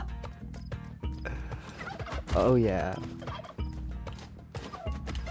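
A turkey in the video game Spelunky 2 lets out a short, loud, warbling gobble over steady looping game music, with a brief voice nearby.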